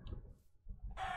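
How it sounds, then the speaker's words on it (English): A rooster crows in the Minecraft FoolCraft modpack, a short burst of bright, harsh crowing near the end after a stretch of low rumble and a brief clucking chirp at the start. "There's another rooster."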